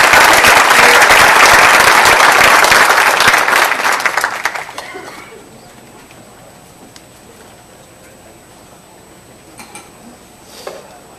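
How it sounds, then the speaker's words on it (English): Audience applause at an education summit event, loud dense clapping filling the room for about four seconds before quickly dying away to quiet room tone. "Let's give these guys a round of applause."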